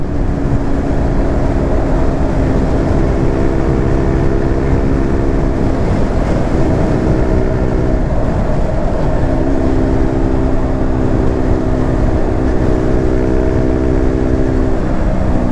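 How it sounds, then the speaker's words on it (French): A KTM Duke 125 motorcycle from 2020 with its stock exhaust, its small single-cylinder engine holding a steady, fairly loud drone that rises and falls slightly in pitch, heard close with no talking. "Ça pétarade un petit peu avec le pot d'origine"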